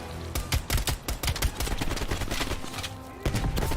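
Video game gunfire: rapid bursts of loud automatic shots fired in quick volleys, with short gaps and a final burst near the end, close and dominant with no talking.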